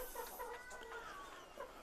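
Laying hens, Leghorn and Rhode Island Red, cluck and chatter softly in a coop, a few short rising calls over a faint steady hum of background noise.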